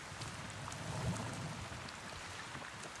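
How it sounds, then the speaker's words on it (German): Steady rain in the video game Avatar Frontiers of Pandora, a constant soft hiss of falling drops with a faint low rumble, heard alone. "Regen."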